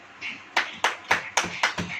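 Church audience clapping hands together in unison: six sharp, loud claps in a steady, even rhythm, about one every quarter second, with little else around them.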